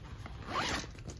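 A zipper on the back pouch of a neoprene tote drawn in one short quick pull, close and clear in a quiet room.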